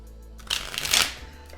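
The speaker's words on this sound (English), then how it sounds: "I'm gonna get shuffled up." A deck of tarot cards being shuffled close up, a brief riffling flutter of cards rising and fading over about a second.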